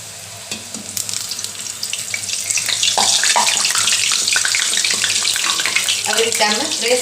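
Sindhi pakwan made from flour dough is dropped into hot oil and fries with a loud, close, rising sizzle and bubbling that stays dense and steady.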